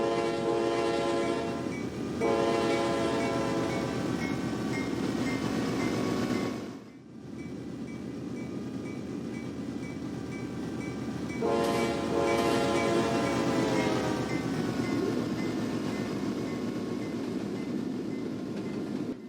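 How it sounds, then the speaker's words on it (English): Locomotive 7216 leads train 199 past directly beneath, its horn sounding in two long, loud harmonic blasts separated by a gap, over a steady heavy rumble of the passing freight train and rail noise. "We get a little bit of a horn show as he passes underneath us."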